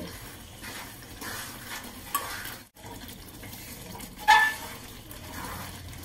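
Spices such as garam masala, cinnamon, shahjeera, cloves and cardamom are stirred into chicken pickle in a pan, giving soft scraping stir sounds and a couple of metallic clinks against the pan, fairly quiet with a brief gap midway.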